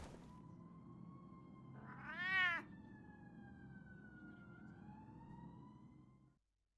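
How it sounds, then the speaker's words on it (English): A cat in the video game Batman The Telltale Series gives one long, drawn-out, wavering yowl that rises sharply, then slowly falls, heard quietly over a low background hum before cutting to silence. "I feel sorry for the cat."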